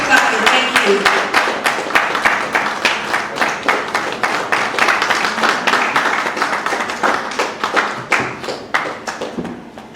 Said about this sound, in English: Please let's give Mr. Deshino Ogunlano a round of applause. Just keep clapping till he gets it.